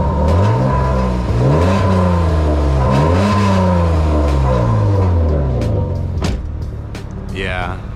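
A BMW E36 with a cracked exhaust muffler revs and accelerates through rising and falling engine pitches, loud and close, with a rough, droning tone and people talking over it.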